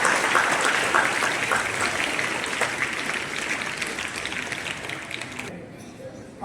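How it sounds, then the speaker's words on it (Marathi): A crowd at a Republic Day gathering welcomes two soldiers who serve on border duty with loud, sustained applause that fills several seconds before cutting off abruptly near the end. "जोरदार टाळ्या वाजवून त्यांचं"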